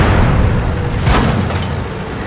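A tank gun fires once in World of Tanks from the SU-122-44 tank destroyer's position, a single boom about midway through a clip that is otherwise dense, loud rumbling battle noise with no speech.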